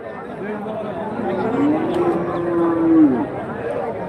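Cattle at a busy livestock market in Krishnagiri district, with one clear drawn-out moo rising over crowd chatter and someone speaking nearby.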